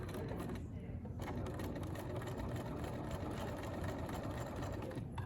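A sewing machine stitches fabric with a steady, continuous mechanical whir, briefly easing off near the start as the seam is back-tacked and then running forward again at a constant pace.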